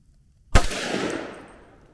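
A single 300 Blackout rifle shot firing a Hornady 125-grain ballistic tip round during a chronograph test, a sharp close crack after silence followed by a long fading echo.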